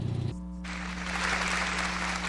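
Crowd applause for Congressman Steve Kagen at a listening session in Appleton, a steady broad wash of clapping that builds after a brief opening tone and carries on evenly.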